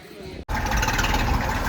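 A Massey tractor engine rumbles steadily and loud at close range after a brief cut, a continuous low drone, with someone talking over it.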